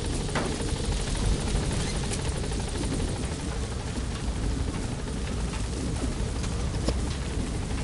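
Helicopter lifting off in the video game Metal Gear Solid V, heard as a loud, steady, dense rotor and engine roar that fills the whole stretch with no speech over it.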